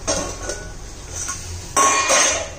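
A metal lid set back onto a cooking pot of tomato chutney, a few light clinks and scrapes followed by a louder clattering clank, close and alone.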